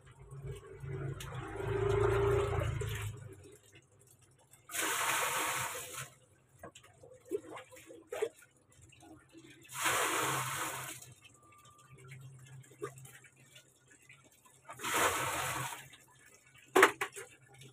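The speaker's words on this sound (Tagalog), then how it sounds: "May tubig na." Water gushes from a tap in several separate bursts, each a few seconds long, with quiet pauses and faint clinks between them.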